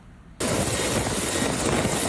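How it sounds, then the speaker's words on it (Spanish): A helicopter flies over mountainous terrain during an earthquake rescue in Afghanistan, its broad rotor and engine roar starting suddenly and holding steady and loud. "Helicópteros han estado surcando el cielo afgano desde la madrugada."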